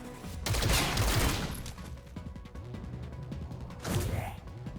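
Rapid bursts of gunfire crack out in XCOM Chimera Squad as squad members shoot an android, a dense volley at the start and another burst near the end, with lighter impacts and mechanical clatter between.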